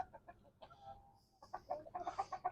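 A rooster clucks in a series of short, close calls, with a brief pause before a quicker, louder run of clucks.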